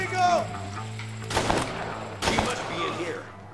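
Revolver shots in the western video game Red Dead Redemption, two sharp loud bursts about a second apart over steady game background music, with someone speaking faintly underneath.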